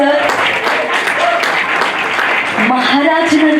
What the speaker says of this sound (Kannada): ನಿಮ್ಮೆಲ್ಲರ ಪ್ರೀತಿಯ ಚಪ್ಪಾಳೆಯೊಂದಿಗೆ